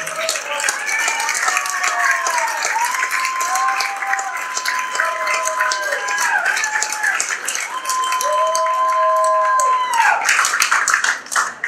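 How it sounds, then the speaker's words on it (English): An audience at the Lynn Classical Hall of Fame induction applauds a former middleweight boxing champion, sustained crisp clapping throughout with a voice speaking over it at moments. "let's give a big round of applause for former middleweight champion of the world"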